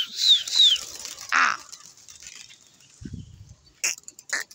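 Pigeons released for a pigeon-flying contest take off, with a few quick bursts of flapping wings and some chirpy calls, then a quieter stretch and a low rumble before more wing flutters near the end.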